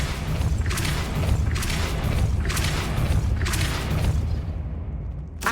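Repeated forceful whooshing blasts from the Depulso spell cast in Hogwarts Legacy, about five loud surges roughly a second apart over a constant rumbling bed.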